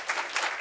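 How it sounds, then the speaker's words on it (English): A brief burst of crowd applause, dense and continuous clapping from an audience at a leadership institute graduation and recognition ceremony. "Please give Andrea Kramer and Nidhi a big round of applause."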